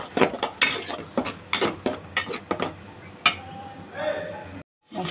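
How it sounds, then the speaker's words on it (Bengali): Onion paste and spices being stirred in a pan for beef liver and potato curry, with a run of sharp metallic spoon clinks and scrapes against the pan, close and fairly clear, then a brief pause. "পেঁয়াজটাকে ভালোভাবে মশলাটাকে নেড়ে দেবো"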